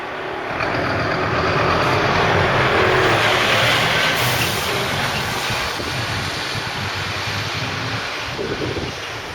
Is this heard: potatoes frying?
no